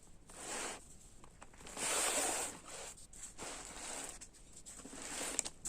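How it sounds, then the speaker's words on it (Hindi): A maths determinants question being written out by hand, heard as close, scratchy pen or marker strokes in short bursts with brief pauses between them, and no voices. "अब मैं क्वेश्चन को लिखता हूं।"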